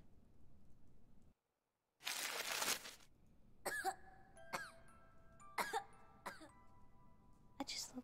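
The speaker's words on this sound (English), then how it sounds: "I can hear the young patient cough." A young patient coughs in the detective video game Judge Dee, a few short, sharp coughs spaced apart after a burst of noise, each one close and clear against a quiet room backdrop.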